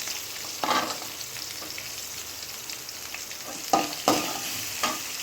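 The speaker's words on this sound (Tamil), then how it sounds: "பூண்டு போட்டுக்குங்க" Garlic sizzles in a hot pan along with onions and chana dal for brinjal thokku, a continuous close frying hiss broken by a few sharp stirring scrapes and clatters, with no talking.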